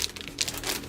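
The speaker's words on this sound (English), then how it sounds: "Crumple it up and throw it, and Dottie will go get it." Wrapping paper is crumpled up by hand close by, giving a brief burst of dry crinkling and crackling lasting about a second.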